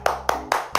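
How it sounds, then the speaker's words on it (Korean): Four separate hand claps ring out in a church Bible-study session, evenly spaced, sharp and close, each standing alone with no talk. "수고의 박수 하도록 하겠습니다"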